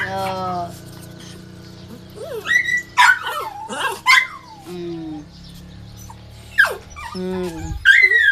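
Several pet dogs at a house bark and yip in short bursts, some sharp and close, with whimpering between, while a person talks quietly underneath.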